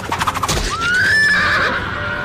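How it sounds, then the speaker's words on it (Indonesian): A horse whinnies loudly and close, a rising then falling neigh lasting about a second, preceded by a few hoof thumps. "Bandit Sang melemparkan kunai hingga mengenai kuda yang Kun Pen tunggangi."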